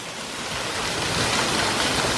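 Waterfalls roaring in Shawnee National Forest, a steady, close wash of falling water that swells slightly and holds without a break.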